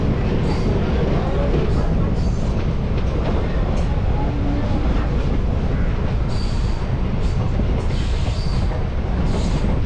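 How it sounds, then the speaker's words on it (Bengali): A train rounding a curve near New Mal Junction, a loud continuous rumble of wheels on track with brief high squeals as it turns. "আবার ট্রেনটা এদিকে ঘুরে যাচ্ছে, সামনেই ঘুরে গিয়ে বাঁ দিকে চলে যাবে"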